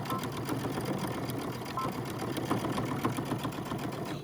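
A sewing machine runs steadily, stitching the bottom of a fabric mask with a continuous, even mechanical whir and needle chatter, close and alone throughout.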